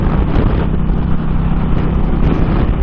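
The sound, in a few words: strong wind blowing while riding an Indian motorcycle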